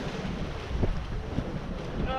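A sailboat sailing close to the wind, with steady wind rush on the microphone and soft water wash along the hull, fairly loud and continuous.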